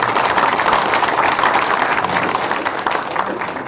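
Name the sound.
audience applause at political meeting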